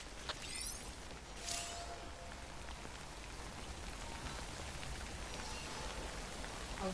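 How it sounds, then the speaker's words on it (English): Timefall rain from the video game Death Stranding: Director's Cut falls steadily on surfaces, a dense, even patter that continues without a break, with no voices present. "Don't stay out in the rain any longer than you have to."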